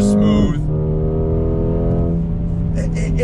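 A 2020 Mercedes-AMG CLA 35 pulling out of a turn under throttle, its engine holding a steady, close droning note with a brief burst of higher noise at the start and again near the end.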